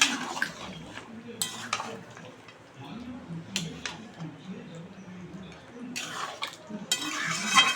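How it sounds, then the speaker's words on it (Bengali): Mutton being stirred and sautéed in a pot, a spoon scraping and knocking against the metal in irregular strokes over a faint sizzle, close, with a voice speaking now and then. "মাংস কষা হচ্ছে।"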